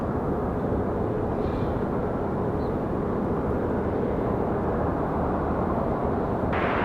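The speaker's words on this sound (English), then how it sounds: "Southwest heading out to 23 left for departure" A Southwest airliner taxis out toward runway 23 left for departure at Raleigh-Durham International, giving a steady, broad jet rumble and hiss that holds even and fairly loud throughout with no talk.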